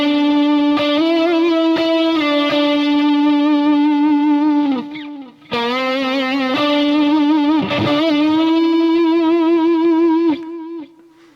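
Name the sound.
electric guitar phrase with whammy bar vibrato and pre-bends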